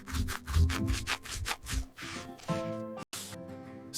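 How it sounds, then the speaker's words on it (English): Teeth are brushed with quick rhythmic scrubbing strokes, a close, steady rasping repeated many times, then giving way to a softer tonal sound near the end, with no talking. "Brush, brush, brush."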